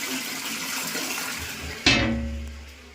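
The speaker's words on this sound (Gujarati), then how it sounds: "પાણી ચાલુ છે." Tap water runs from a household water tank, a steady broadband rush that gives way to a sudden louder gush near the end, then settles and fades slightly; no one speaks.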